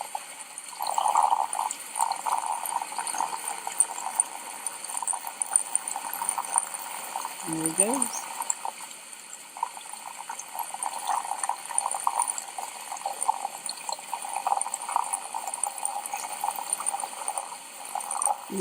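Water bubbling steadily in a fish tank, a continuous close gurgling and trickling that runs throughout while a voice speaks briefly partway through.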